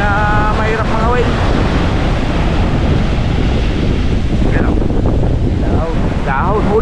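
Strong wind and rough sea during Typhoon Opong at Bucana, Batangas, a loud constant roar of wind and surging water, with a voice briefly calling over it.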